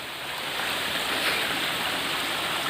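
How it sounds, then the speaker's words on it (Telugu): A forest waterfall in a shaded, dense woodland pours in a steady, loud, broadband rush that stays constant throughout, with no voices over it. "నేను పైకి వెళ్తున్నాను చూడండి మన వాటర్ ఫాల్ కనిపిస్తుంది కదా"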